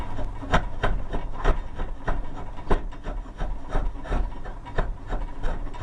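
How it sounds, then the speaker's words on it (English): A draw knife shaves a wooden longbow stave in steady rhythmic rasping strokes, each pull a close, scraping rub, repeating about twice a second with no voices. "Working with a draw knife, it's all about angling it."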